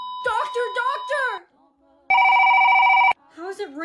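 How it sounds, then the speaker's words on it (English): An old telephone bell rings loudly in a single sustained burst of about one second, with talking just before and after it. "How is it ringing? It's not even plugged in."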